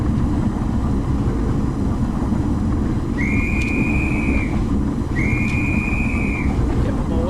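A train whistle sounds twice in Train Simulator Classic during a Gravity Railway run, two steady one-second tones over a constant loud rumble of the moving train.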